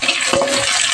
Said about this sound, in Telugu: వీటిని బాగా వేయించాలి